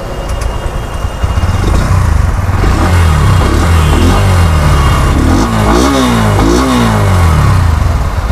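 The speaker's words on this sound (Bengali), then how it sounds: "এখানে আছে সেলফ স্টার্ট, ইঞ্জিনের সাউন্ডও তোমাদের শোনাচ্ছি কীরকম সাউন্ড আছে" A 125cc motorcycle with self-start fires up and settles into a loud, close idle, a steady throaty burble with small throttle blips rising and falling near the end, no talking.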